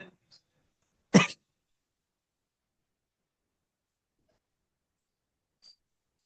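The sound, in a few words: coughing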